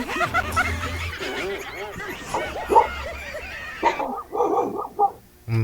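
A dog yips and barks a few times amid people talking and chuckling nearby, the sounds overlapping in a lively room.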